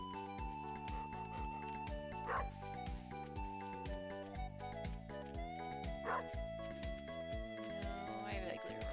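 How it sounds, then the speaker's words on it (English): Small cartoonish dog barks and yips from the farming video game Stardew Valley, repeating over a busy bed of cheerful game music, fairly faint and with no talking. "Dog."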